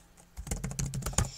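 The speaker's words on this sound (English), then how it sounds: "Type in our password." Computer keys are tapped in a quick burst while a password is typed during software installation on an Antergos Cinnamon Linux desktop, close and moderately loud, with a sharper key hit at the end.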